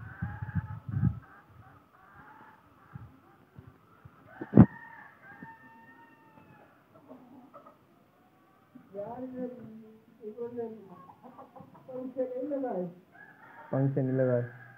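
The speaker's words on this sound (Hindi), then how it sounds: "यहाँ पे मुर्गी बैठी है।" Hens cluck and squawk in short bursts close by, with a rooster-like call among them, while people talk intermittently.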